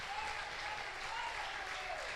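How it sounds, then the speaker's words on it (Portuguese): A church congregation applauding during a service, a dense even clatter of many hands clapping continuously, moderately quiet and heard alone. "Vamos aplaudir o nome do Senhor."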